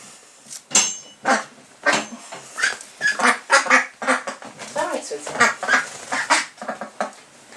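An almost fully grown magpie duck quacking repeatedly in a lively, irregular series of nasal calls, close and loud, mixed with voices talking nearby.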